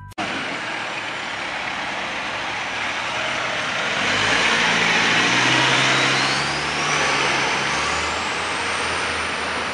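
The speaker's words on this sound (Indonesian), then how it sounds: "ada truk molen." A cement mixer truck's engine rumbles steadily throughout, swelling louder in the middle as it draws closer, with a high tone rising across the top, and no talking.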